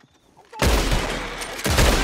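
Gunfire in the video game Red Dead Redemption 2: after a quiet half second, a sudden loud volley of shots erupts and rolls on as a sustained barrage, with another burst near the end.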